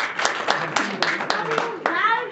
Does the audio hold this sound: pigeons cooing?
no